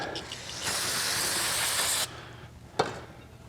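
An aerosol spray can hisses steadily for about a second and a half onto a warm 1600cc engine from a 1973 VW Thing, followed by a brief faint hiss and a sharp click.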